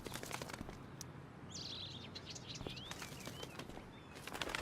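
A bird in the game Life is Strange: Before the Storm flutters its wings with a few faint chirps, set in a school outdoors, against a steady hiss of ambient background noise.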